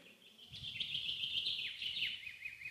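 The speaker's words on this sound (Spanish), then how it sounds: "mira qué bonito silba ese pajarito" A small bird whistles a run of bright, sliding high notes, repeated several times over a soft background murmur, fairly clear and close.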